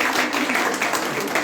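Audience applause at a jubilee celebration for FTL Sisters in Pakistan, a dense, steady wash of many hands clapping that fills the short moment without a break.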